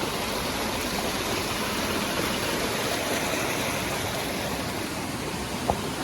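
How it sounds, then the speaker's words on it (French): Steady rushing water of a nearby stream, a broad continuous hiss and gurgle filling the whole clip with no voices. "On va traverser la petite rivière."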